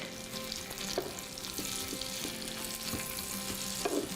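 Salted butter sizzles and fries steadily in a pan while a utensil stirs it quickly, with faint scraping taps over the bubbling, moderately close and without talk.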